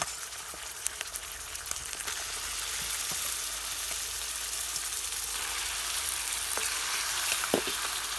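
Meat sizzles and fries steadily in a pan over a small stove at a village family picnic, with occasional scraping stir strokes and no talking.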